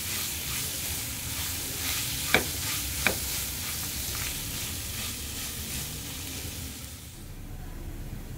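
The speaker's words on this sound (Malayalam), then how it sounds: "ഒരു 5 മിനിറ്റോളം എങ്കിലും നമ്മൾ ഇത് നന്നായിട്ട് ഒന്ന് വഴറ്റി എടുക്കാം" Grated gooseberry sautéing in oil in a pan, a steady close sizzle with a continuous frying hiss and two sharp spatula taps against the pan partway through.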